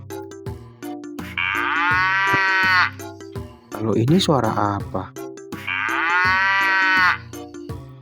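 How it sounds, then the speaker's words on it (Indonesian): Two long, loud moos from a cow in a children's farm-animal cartoon, separated by a short spoken question, with cheerful background music underneath. "Sepertinya suara sapi."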